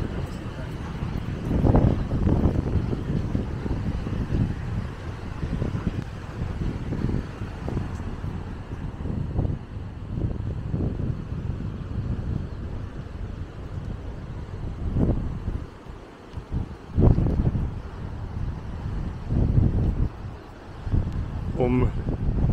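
Steady wind buffets the microphone on the beach at Maspalomas, Gran Canaria, a continuous roar with stronger gusts and brief lulls throughout.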